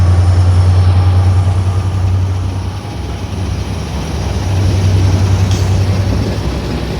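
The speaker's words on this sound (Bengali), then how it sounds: "গ্যান্ডারিয়া থ্রু পাস করছে জাহানাবাদ এক্সপ্রেস" Jahanabad Express passenger train running through Gandaria station, a loud, steady rumble of wheels and engine close by, holding strong for the full length with a brief dip midway and no talk.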